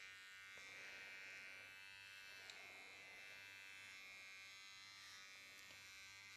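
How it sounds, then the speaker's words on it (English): Electric clippers running on a poodle's feet during grooming, a steady close buzzing hum that holds throughout with faint shifts in tone as the blade glides over the paws. "I don't push on my clipper, he does the work for me."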